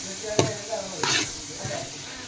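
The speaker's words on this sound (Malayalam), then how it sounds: "തക്കാളി ഉള്ളി സവോള വെളുത്തുള്ളി ഇഞ്ചി പച്ചമുളക് എല്ലാം വഴറ്റിയെടുക്കുകയാണ് കേട്ടോ" Tomato, onion, garlic, ginger and green chilli sautéing in a pan, a soft steady sizzle with a few scraping stirs and clinks, close and moderately loud, no talk.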